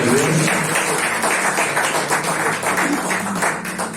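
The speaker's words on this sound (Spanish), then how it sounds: "Démosle un aplauso al Señor." A church congregation claps together in a steady, dense wash of applause that fills the room, loud and continuous, with a faint voice surfacing beneath it.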